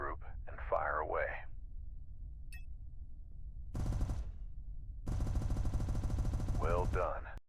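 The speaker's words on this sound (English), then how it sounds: "Now, activate your turret weapon group and fire away." Spaceship turret weapons in the game SpaceBourne 2 fire in two rapid automatic bursts, a short one then a longer sustained rattle, loud and close, with brief processed radio-like voice fragments at the start and end.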